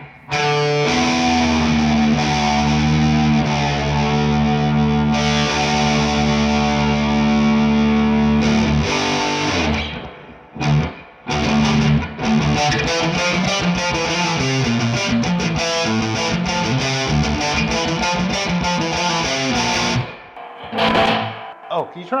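Epiphone Flying V electric guitar played through distortion and reverb, starting with sustained ringing chords, then moving into choppy riffing with short pauses, loud and close.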